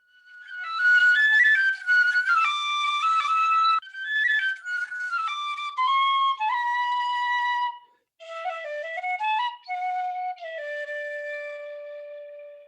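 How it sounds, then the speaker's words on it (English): A piccolo, called the death whistle, plays a bright, piercing high melody of sustained and trilled notes, loud and close, with a brief pause midway and no talk. "That's the death whistle."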